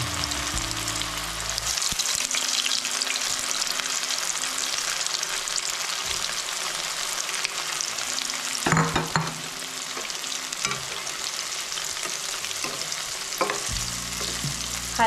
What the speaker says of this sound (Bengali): তেলটা খুব গরম করে নেবেন, তাহলে পনিরটা খুব ভালো ভাজা হবে আর শক্ত হয়ে যাবে না